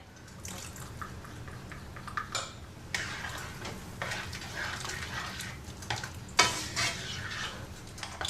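A spoon stirring cocoa into beef chili in a pot, wet scraping and sloshing strokes in an uneven rhythm with sharp clinks against the pot and a soft simmering sizzle beneath, close and alone.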